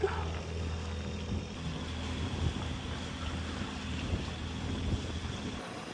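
Strong wind buffeting the microphone in a steady rumbling roar, with a faint background hum, outdoors on open water.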